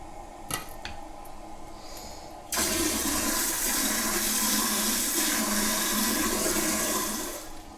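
Water rushes through a bidet sprayer line after a T valve on a toilet is opened. Faint clicks and hiss come first, then a sudden steady, loud pressurized gush that holds and eases slightly near the end.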